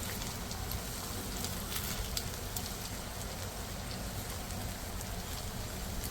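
Cauliflower pieces for Gobi Manchurian fry in hot oil with a steady, dense sizzle and crackle, close and continuous, with faint pops scattered throughout and no talking.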